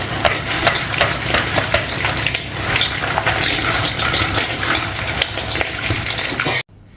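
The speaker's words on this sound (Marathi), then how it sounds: "आता आपण हे सर्व मिक्स करून घेणार आहे अशा हलक्या हाताने मिक्स करून घ्यायचं" Spicy shankarpali diamond cuts tossed gently by hand, a continuous rustling, scraping clatter of crisp pieces at close range that stops abruptly at the end.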